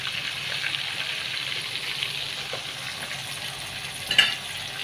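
Fish masala cooks in a pan with a low, continuous sizzle while being gently stirred, a brief scrape of the utensil standing out near the end, no speech.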